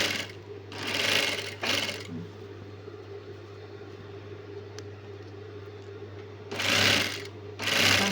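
A sewing machine stitches a rolled hem on a Lao sarong in short, loud running bursts. Quiet pauses separate the bursts, with a steady motor hum underneath throughout.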